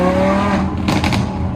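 Sports cars such as Lamborghinis, GT-Rs, BMWs and AMGs leaving a car show, an engine revving loudly and steadily before a brief burst of harsher noise near the end.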